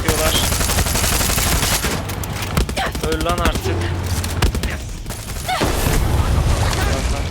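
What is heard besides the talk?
gunfire in a video game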